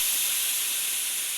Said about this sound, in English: steam started billowing from him.